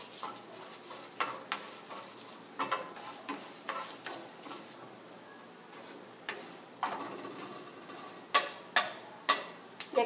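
Chiles and garlic toasting in a pan over a low flame, a faint quiet sizzle broken by repeated sharp clicks and taps of a utensil against the pan, growing more frequent and louder near the end; no talking.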